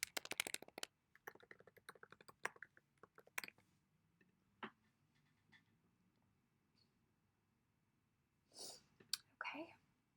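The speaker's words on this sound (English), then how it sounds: "I'm going to type in a test user." Keys clatter on a computer keyboard while a test user name is entered, starting with a quick close burst of taps, then thinning to scattered single keystrokes, followed by quiet stretches and a few soft breathy, whispery noises near the end.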